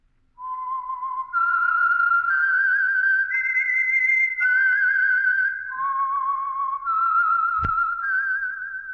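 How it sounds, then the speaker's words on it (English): A lone whistler performs the signature tune of The Whistler radio show, a clear, sustained melody of gliding notes over near silence, with a short sharp knock near the end. "That whistle is your signal for the Signal Oil Program, The Whistler."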